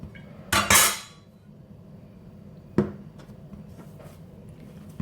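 A knife cuts soft biscuit dough in two on a countertop, giving a couple of sharp knocks against the board and a few lighter taps after them, close and fairly clear, with no talking.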